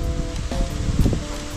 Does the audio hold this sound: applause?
no